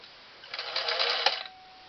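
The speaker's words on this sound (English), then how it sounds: "So we'll just start sewing where we left off" A Singer 457 Stylist sewing machine stitches in one short, fast mechanical run of about a second, a close, even whirring rattle that starts and stops cleanly against quiet.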